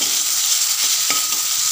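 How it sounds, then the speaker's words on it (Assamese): Chopped potatoes fry in hot oil for an Assamese-style chicken curry, giving a steady loud sizzle throughout with a few stirring scrapes from the pan and no talk. "আৰু এইখিনি ঢাকনি মাৰি লৈ ৰঙচুৱা আলুটো ভাজি লওঁ"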